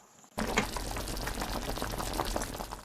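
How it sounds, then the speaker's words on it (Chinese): A pot of soup with mussels and shredded radish, seasoned with milk, pepper, salt and beef powder, bubbles and boils steadily after a sudden start, a dense close burbling and popping that continues without voices. "听听煮汤的声音，是不是食欲大增？"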